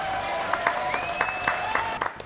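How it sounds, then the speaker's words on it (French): A studio audience on a French television show claps for four guests, a short burst of applause with scattered louder claps and a faint tone running through. "Applaudissements pour vous 4"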